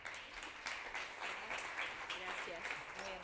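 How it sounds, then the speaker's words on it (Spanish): Audience applause welcoming a speaker at a data journalism talk, a fairly quiet, continuous patter of many hands, with faint voices murmuring through it. "Rebem-la amb un fort aplaudiment."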